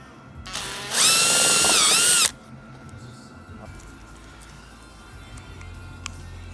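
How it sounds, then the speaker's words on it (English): A power drill whines loudly for about a second, rising and dipping in pitch as it bores, then stops, leaving quiet room noise. "Just drill a little hole here."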